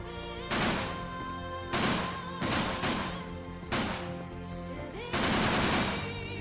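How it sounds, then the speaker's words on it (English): Uzi submachine gun fire in the Dead Rising video game, rolling in loud rapid bursts of several rounds each, separated by brief pauses, with no voices over it. "you can also shoot while walking. And the same thing goes for the Uzi,"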